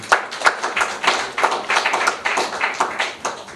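A crowd applauds steadily, dense overlapping claps at a moderate level throughout with no talking.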